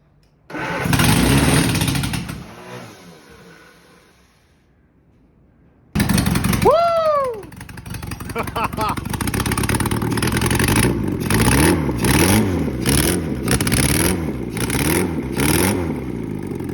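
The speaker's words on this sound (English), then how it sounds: "Let's see if the other engine will run." An engine cranks and catches, then settles into a loud, steady running rumble with rhythmic pulsing, close by.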